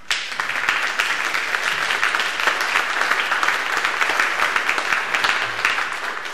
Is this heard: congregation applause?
yes